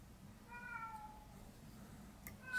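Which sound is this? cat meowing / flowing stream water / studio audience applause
cat meowing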